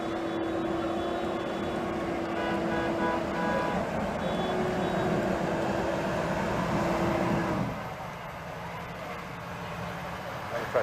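Tow trucks rolling down Main Street in a town parade, a steady rumble of engines with a sustained horn-like tone and a continuous crowd and traffic wash, loud and close, with a reporter talking over the noise.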